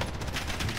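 Automatic weapon fire in the video game Call of Duty Warzone, a short burst of rapid shots at moderate loudness.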